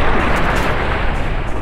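Gunfire in the video game Fallout: New Vegas, a heavy, booming burst of shots rolling together over under two seconds, loud and dense with no speech.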